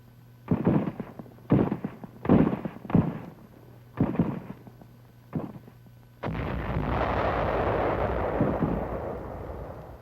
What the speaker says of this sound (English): Opposition is moderate on the beach, although our troops are brought under small arms and mortar fire.